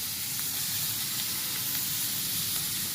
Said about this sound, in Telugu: అప్పుడు మనం ఈ పాలకూర వేసేస్తున్నాం దీంట్లో.